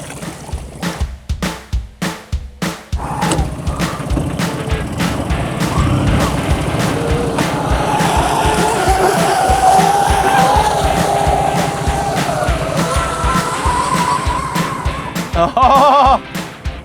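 A mini RC 4x4 car drives across the surface of the Loire, its electric motor giving a steady whine over continuous splashing and churning water that swells in the middle and fades near the end.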